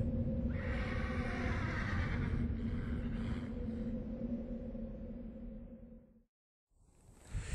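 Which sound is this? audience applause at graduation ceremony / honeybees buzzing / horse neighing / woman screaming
horse neighing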